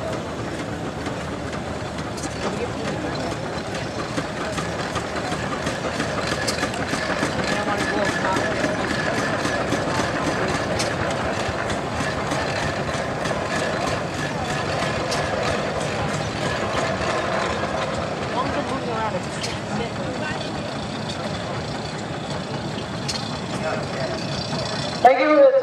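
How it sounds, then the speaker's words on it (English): A 1917 Sawyer Massey 17-horsepower steam engine running in a parade at a steam show, a steady rumbling, chugging mechanical drone held throughout with no pauses. "The parade is Sawyer Massey steam engine, owned by Steve Harris of Cambria, New York"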